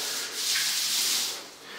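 A paint roller makes a steady, scratchy rubbing drag spreading Behr Premium granite grip floor coating across a floor, rising and falling gently over a couple of seconds, close up with no talking.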